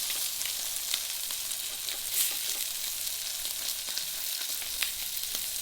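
A thick T-bone steak sears on a preheated grill plate over a gas burner, giving a steady, close sizzle with faint crackles and no talking.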